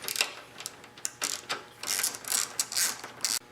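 A ratchet clicks rapidly in bursts as bolts are loosened on a Honda Shadow motorcycle, close and fairly loud, with brief pauses between runs of turning.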